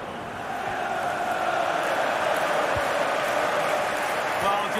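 Stadium crowd noise in the FIFA Mobile football game, a broad sustained roar that swells early and stays steady and loud, like fans urging on a late equaliser.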